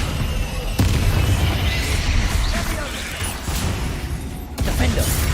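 The Confringo fire spell goes off in Hogwarts Legacy amid loud, dense combat noise, with booming bursts at the start and again near the end over a continuous rumbling game mix.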